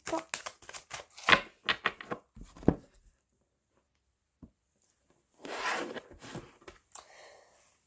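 Tarot cards being cut and shuffled by hand, giving quick, close riffling and rubbing bursts in a brief flurry and then one longer shuffle, with a few quiet pauses between them.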